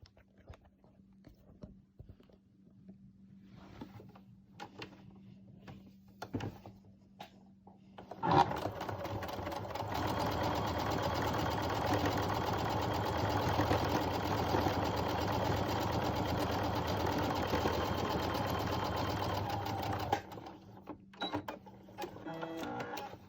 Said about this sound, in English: I'm gonna sew all the way down this edge, keeping this outside edge lined up with the outside of my presser foot